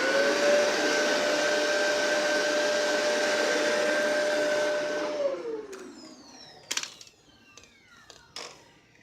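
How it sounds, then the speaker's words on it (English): A Shark Rotator Powered Lift Away vacuum cleaner runs as a canister with a steady high whine, then powers down around the midpoint, leaving sparse clicks and clatters as parts are handled. "So that way it's a canister vacuum, and I'll show you that"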